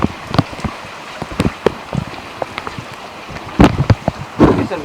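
Heavy rain falls during a thunderstorm in Vancouver, Washington, pattering close and irregular on nearby surfaces with louder bursts of drops, heard alone without talk.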